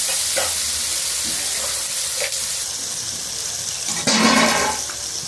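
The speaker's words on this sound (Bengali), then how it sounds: "জলটাও দিয়ে দিচ্ছি" Water is poured into a hot pan of shrimp masala made with ground cashew and melon seed paste, producing hissing sizzle and sputtering bursts that swell sharply near the end, with no talking.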